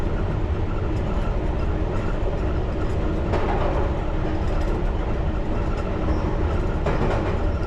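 A Piccadilly Line Underground train coasts down toward Russell Square station, a loud continuous rumble with clickety-clack rhythm from wheels over rail joints, heard from inside the cab.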